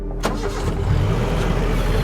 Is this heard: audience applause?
no